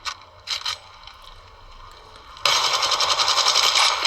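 Reloading in a mobile shooter game on a Xiaomi Redmi Note 11 Pro+: a few short mechanical clicks and ratcheting clacks, then a sudden loud, dense burst of sustained gunfire-like noise that fills the second half.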